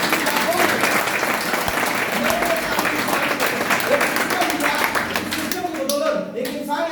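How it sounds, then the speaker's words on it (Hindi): Loud, sustained applause from a large crowd, dense clapping filling the space, thinning slightly toward the end. "जोरदार तालियां स्टीफेंस वाले जैसे प्लेटफॉर्म के लिए"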